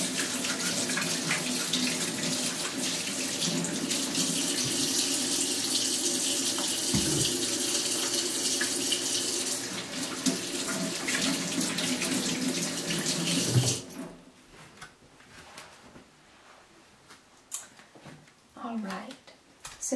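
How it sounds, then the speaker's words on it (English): Hands washed under a running kitchen tap in a cooking setting, a steady loud stream of water splashing into the sink for about fourteen seconds, then the flow stops and a few faint handling clatters follow. "First, I am going to wash my hands real quickly."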